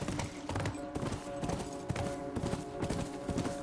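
Horse hooves clip-clopping in a rapid galloping rhythm in The Last of Us Part II, steady and fairly faint, with game ambience underneath.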